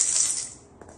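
A shaker rattle, one of a set of toy musical instruments, gives a brief crisp rustling burst up close, then fades, followed by a faint tap.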